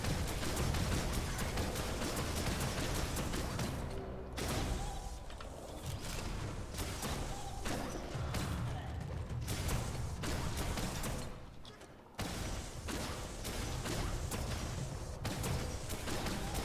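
Repeated rifle shots in the video game Biomutant, sharp bursts recurring throughout under a continuous game soundscape, fairly loud with no talk.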